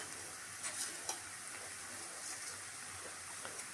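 Murmura upma, made from puffed rice, being mixed in a pan, with a faint steady sizzle and soft, scattered scraping and tapping of the spoon, quiet and close.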